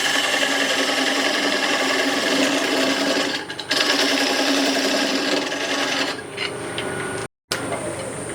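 A tool scrapes and cuts across the face of a spinning workpiece on a wood lathe, making a continuous rough rasping whir with a short dip and one brief dropout.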